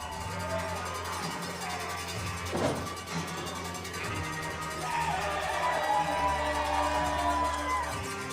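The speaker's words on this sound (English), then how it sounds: "When this crowd is as loud as they are for Paul, I'm not gonna be able to hear a word you say." A wrestling crowd at the Ryse Wrestling 7th anniversary championship match roars and cheers for Cowpoke Paul, a sustained, loud, dense wall of shouting and whooping that swells in waves throughout.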